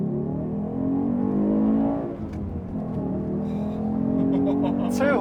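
Engine of a 1990s Fiat Coupe revving, a steady harmonic drone that dips, then rises again in pitch, fairly loud and close, with brief talk and rustling near the end.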